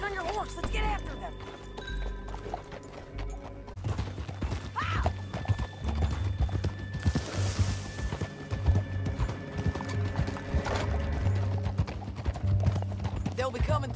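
Horse hooves clip-clopping at a steady gait in Red Dead Redemption 2, with an occasional whinny, continuous and fairly close under a constant low rumble of game sound.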